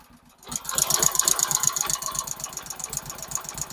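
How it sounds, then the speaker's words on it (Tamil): A 2017 Hero Honda Splendor Pro motorcycle engine starts after a brief silence and settles into a steady idle, with rapid ticking valve clatter running over the low rumble, close by. "இன்ஜின் சவுண்டு இருக்குங்களா?"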